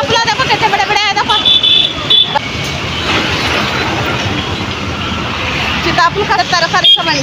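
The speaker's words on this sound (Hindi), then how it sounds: "गाड़ी का आवाज है" Vehicle traffic rumbles through a busy fruit market street in late morning, a steady mid-level wash of engine noise with bursts of chatter and a horn-like tone, as a person talks over it.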